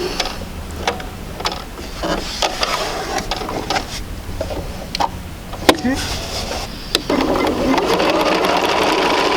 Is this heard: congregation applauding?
no